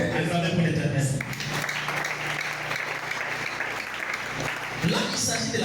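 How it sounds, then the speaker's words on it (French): A church congregation at a Friday teaching service applauds, a broad sustained wash of clapping from many people over about five seconds, with a preacher's voice under it at the start and end. "Acclamez pour l'Éternel"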